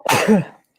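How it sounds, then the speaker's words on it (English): A single sharp sneeze lands close to the mic, a sudden burst with a voiced tail that fades within a second. "It's so random. Such a random sneeze."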